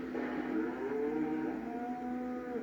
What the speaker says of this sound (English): I hear fucking moo cows.